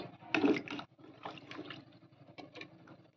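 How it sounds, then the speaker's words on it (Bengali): Water pours onto washed rice in a pot, a soft splashing gush that swells, dips and resumes in a few bursts, close and fairly quiet with no talking. "তো আমি এবার জলটা দিয়ে দিই।"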